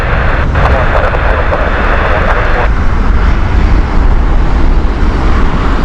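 NASA Boeing 777-200 at Heathrow Airport gives a loud, steady jet engine roar close by, with a person talking over it.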